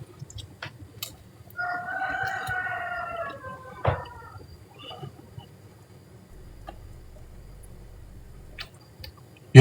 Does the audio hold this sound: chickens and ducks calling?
yes